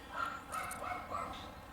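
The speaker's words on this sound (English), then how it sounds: "There's a little dog out there." A small dog barks outdoors at a distance, giving a few faint, high yaps spread across a couple of seconds against a low room background.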